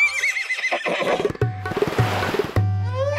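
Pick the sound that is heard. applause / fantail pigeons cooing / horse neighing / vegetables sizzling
horse neighing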